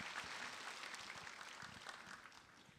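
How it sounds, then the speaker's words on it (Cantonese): Audience at a CUHK Info Day 2025 university admission talk claps for a student, a faint, fairly brief round of applause from a seated crowd that tapers off toward the end. "咁大家俾啲掌聲鼓勵下佢。"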